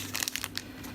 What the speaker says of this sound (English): Some plastic bags.